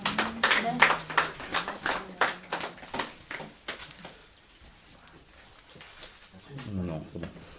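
A church congregation claps loudly in acclaim of Jesus during a worship service. The dense, rapid clapping fades after a few seconds to scattered claps, and a voice rises near the end.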